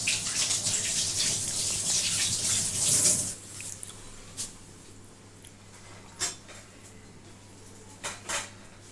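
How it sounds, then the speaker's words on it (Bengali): A tap runs while hands are washed at a kitchen sink, a steady rush of water for about three seconds that then cuts off, followed by a few faint clinks and small knocks. "আমি হাতটা একটু ধুয়ে নিই।"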